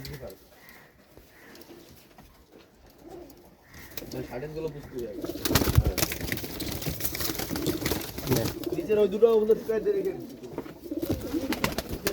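Pigeons coo in low, rolling bursts, joined by a person talking nearby; the cooing grows busier and louder in the second half.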